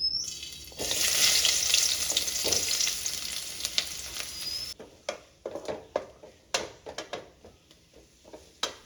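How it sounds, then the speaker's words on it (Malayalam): Chopped onions drop into hot coconut oil in a pan, setting off a loud bright sizzle that dies down after a few seconds into a series of close scraping and stirring clicks, with no voices. "ഇനി അതിലേക്ക് സവാള ചെറുതായിട്ട് അരിഞ്ഞതുണ്ടല്ലോ അതും കൂടെ ചേർത്ത് കൊടുക്കാം."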